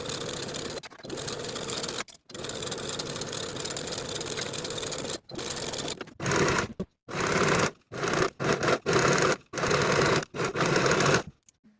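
Sewing machine stitching the side and underarm seam of a linen shirt, fast mechanical chatter in bursts of several seconds, then shorter start-stop runs with brief pauses between them.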